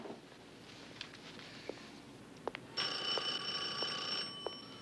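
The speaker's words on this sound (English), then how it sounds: "your phone's ringing." Office telephone ringing, a steady electronic trill that starts partway through and holds for over a second at moderate level, preceded by faint clicks and soft footsteps in a quiet room.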